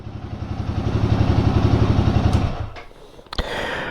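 A Royal Enfield Guerrilla 450 motorcycle's single-cylinder engine thumps steadily and fairly loud nearby, then cuts off abruptly, followed by a brief clatter and a lower rumble of other bikes.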